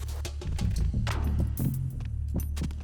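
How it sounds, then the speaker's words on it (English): A character's heartbeat in Metal Gear Solid 2's tanker chapter thumps in steady low throbbing pulses over a constant game hum, with no voices. "you can hear his heartbeat"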